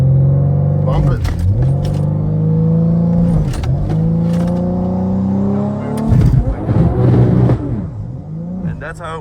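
A BMW-powered Supra drag car holds on its trans brake for a launch at a rainy track day. The engine revs loudly and close in repeated rising and falling bursts, with a voice talking over it.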